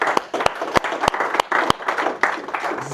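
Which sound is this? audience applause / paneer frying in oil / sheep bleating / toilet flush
audience applause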